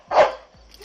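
A police dog gives a single sharp, close bark during an arrest, with faint noise trailing after.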